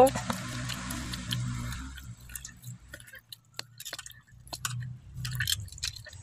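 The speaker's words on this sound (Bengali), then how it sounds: "তেঁতুলটা খানিকটা জল দিয়ে মিক্সড করে নিয়ে নেব। জল দিচ্ছি, দিয়ে কচলে নিয়ে নেব।" Tamarind is squished and kneaded by hand in water, giving a run of wet squelches and drips, close up, broken by pauses and some louder sloppy bursts toward the end.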